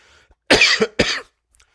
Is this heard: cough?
yes